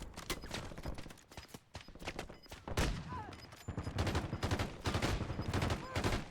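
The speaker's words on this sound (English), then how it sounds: "The hell is he shooting at, bro?" Rapid rattling gunfire in a Call of Duty Warzone match, bursts of shots repeating fairly close and loud, with a voice talking faintly in between.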